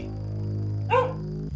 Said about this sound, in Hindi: दूर कहीं कुत्तों की भौंकने की आवाज उस डरावनी शांति को तोड़ रही थी।